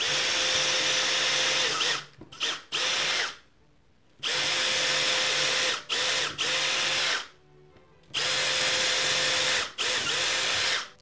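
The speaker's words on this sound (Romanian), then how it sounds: "O să facem prima dată 3 găuri pentru pregăurire." A power drill bores 3 mm pilot holes into a wooden slat in three loud whining bursts, each stuttering to a stop, separated by short quiet pauses.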